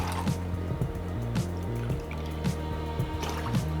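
Orange bitters, lemon juice, Cointreau and shochu are poured into a cocktail shaker for a Japanese sidecar, with close splashing, trickling pours and a few short drips and clinks in an uneven sequence.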